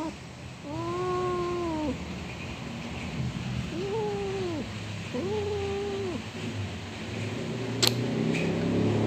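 An angry cat gives three drawn-out, wavering growling meows at moderate distance over steady background hum, followed by a brief sharp click.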